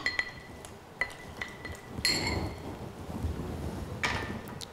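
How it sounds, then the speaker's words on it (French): Lime gently muddled in a glass for a mojito: a few soft glassy clinks and thuds spaced about a second apart, quiet and close, with a faint rustle between them. "Je vais juste écraser délicatement mon citron sans toucher à la menthe"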